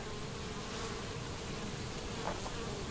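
Dense, steady buzzing from a swarm of bees at an open-air hive about 40 feet up fills the air, close by and continuous.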